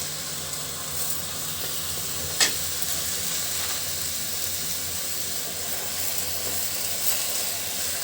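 Malabar spinach greens dropped into a hot pan give off a steady, even sizzle and hiss, with one sharp clatter early on and no voices.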